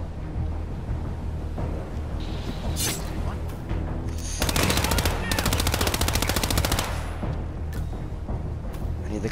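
Close bursts of rapid automatic gunfire in the stealth game Hitman, a few scattered shots followed by a long, dense rattling volley, then quieter game ambience.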